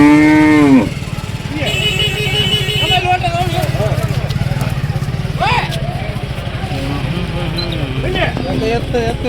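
A cow moos loudly and close by in one long, falling call at a Haveri cattle market where native Jawari cows are sold. People talk and a motor idles throughout.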